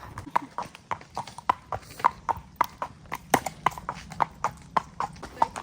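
Pony hooves clip-clop in a steady, even rhythm of sharp, close knocks, with faint breathing and movement in the background and no talk.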